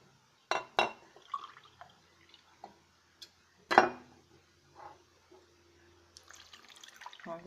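Water is poured from a glass into a cooking pot holding oranges and sugar for fruit jam, heard as a few brief splashy bursts and clinks between quiet gaps, near and fairly faint, with no talk.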